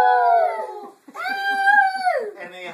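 Several people howl like wild things at the moon, imitating wolves with long, rising and falling voiced howls: one drawn-out howl, a short pause, then a louder, sustained chorus that fades out.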